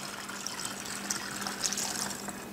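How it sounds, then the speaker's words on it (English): Liquid being poured through a small funnel, a steady soft trickle and splash close by with faint bubbling, continuous and fairly quiet. "we just pour it in"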